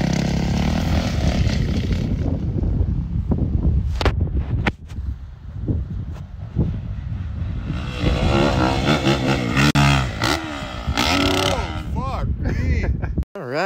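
Dirt bike engine at half to three-quarter throttle during freeriding at a dirt pit, a loud rough buzzing drone with revving swells and a rider talking over it, cutting off abruptly near the end.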